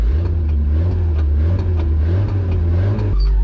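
The small engine of an old mini U-Haul box truck, left sitting for 35 years, runs steadily with a low rumbling idle, surging slightly before dropping to a deeper drone at the end; no talking over it.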